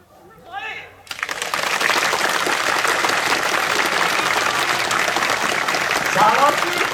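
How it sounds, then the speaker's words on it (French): Crowd applause for a dog demonstration at a police dog training centre in Gramat, bursting in after a second of voice and continuing as loud, sustained clapping with faint voices mixed in. "vous pouvez l'applaudir très très très fort"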